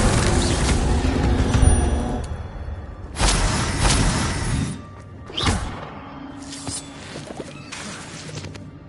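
Incendio fire spell cast in Hogwarts Legacy, heard as several loud bursts of whooshing flame and impact thuds spread across the span, with softer ambient sound between them and no talk.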